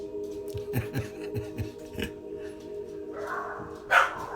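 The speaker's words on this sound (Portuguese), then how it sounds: "Vai ter uns latidos de cachorro, não tem jeito." A dog barks repeatedly in short bursts at a moderate distance, the barks coming in an irregular rhythm before a brief rustling noise.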